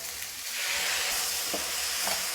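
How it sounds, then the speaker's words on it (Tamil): Onions sizzle and crackle steadily in a hot pan, frying toward golden, with a few soft stirring scrapes. "நல்லா ஒரு கோல்டன் கலராக வரணும் அந்த அளவுக்கு நல்லா வதக்கிடுங்க"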